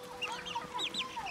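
High, thin peeping calls from ten-day-old chicks, several quick chirps overlapping in a short burst, fairly close and soft.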